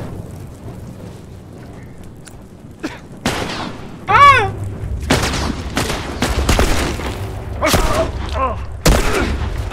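Gunfire in The Last of Us video game: a series of sharp, loud shots and bursts scattered irregularly over about ten seconds, some close and booming, with a voice speaking between them.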